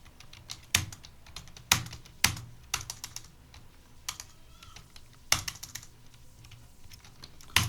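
Keys clatter on a computer keyboard during data entry in TallyPrime accounting software, a steady run of close, crisp taps broken by several sharper, louder strokes, with no talking.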